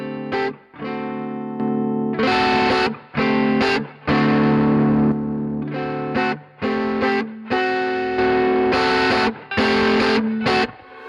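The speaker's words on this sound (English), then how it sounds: "it's going to be full distortion or over the overdrive sound" Electric guitar played through an OriginFX RevivalDRIVE overdrive pedal with the drive fully up, giving loud, saturated distorted chords and riffs in bursts with short gaps, alone with no talk.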